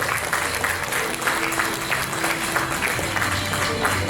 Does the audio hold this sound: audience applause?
yes